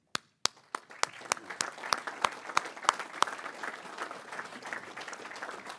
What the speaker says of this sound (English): If you're a volunteer or committee chair, if you'll stand, and we'll give you a round of applause